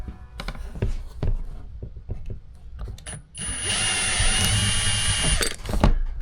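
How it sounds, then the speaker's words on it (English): A drill widens a hole in a panel on a BMW K 1600 B motorcycle, a steady close whine running for about two seconds after scattered handling clicks and taps. "now I have to drill the hole wide enough"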